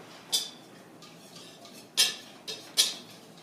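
Utensil taps and clinks against a bowl while pancake batter of flour and sugar is mixed, four or five sharp, close knocks spaced irregularly over a quiet background.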